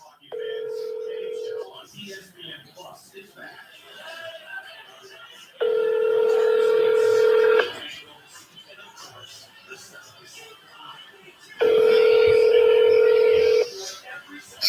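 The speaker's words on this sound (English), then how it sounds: "Make a phone call." A telephone call being placed: three long, loud steady tone bursts at regular intervals, with quieter dialing clicks and faint background chatter in the gaps between them.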